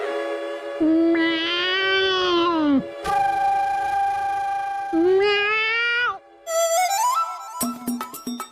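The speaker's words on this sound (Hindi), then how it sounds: "हमारे रसोई घर में फिर बिल्ली, आज ये बिल्ली फिर दूध पी जाएगी" A cat meows several times, long drawn-out cries with rising and falling pitch, close and fairly loud, with short pauses between them.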